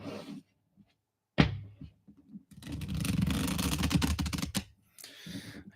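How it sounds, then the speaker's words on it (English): Tarot cards are shuffled in bursts. Short riffling and rustling rattles are separated by near-silence, with one louder flurry lasting about two seconds, close to the microphone. "Let me shuffle the cards a bit."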